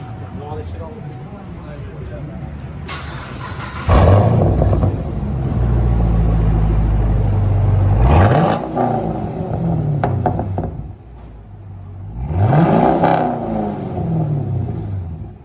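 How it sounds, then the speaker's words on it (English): A modified car with a new aftermarket exhaust revs loudly and pulls away, the engine note rising and falling in several surges close by, with people talking over it. "I'll let you guys hear his exhaust"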